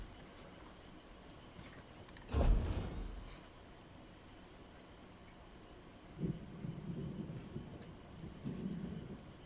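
Thunder rolls in a lightning storm in Elder Scrolls Online: one sharp crack swells into a rumble and fades, followed by softer, lower rumbles later over a steady bed of rain.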